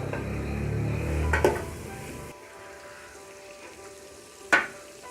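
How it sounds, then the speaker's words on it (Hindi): Chicken with chili powder, ginger and salt sizzling in a pan, a loud steady fry for two seconds that then drops away, with two sharp utensil clinks. "चिकन को थोड़ी देर के लिए भूनेंगे।"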